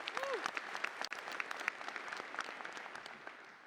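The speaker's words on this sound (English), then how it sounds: "Let's give them a round of applause." A conference audience at a panel session breaks into applause, a dense patter of many hands clapping evenly for a few seconds and fading slightly toward the end.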